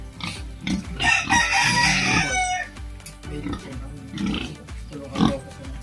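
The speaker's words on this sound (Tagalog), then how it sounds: "Apat na baboy." Pigs on a pig farm being let out of their pens, grunting and squealing loudly near by, with a rooster crowing and chickens clucking in the mix.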